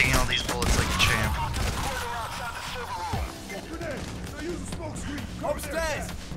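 Rapid bursts of gunfire from a Payday: The Heist bank robbery shootout crackle and pop in quick clusters, mixed with loud talk from players throughout.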